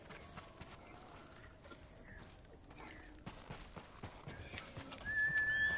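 A horse in the video game Ghost of Tsushima gallops with quick clip-clop hoofbeats and lets out a whinny near the end, fairly faint and with no voice over it.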